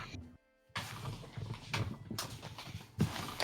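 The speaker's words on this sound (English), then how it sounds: "God, what a cool horse." Horse in a video game clip-clops along in steady hoofbeats, close and moderately loud over faint background ambience after a brief silent gap.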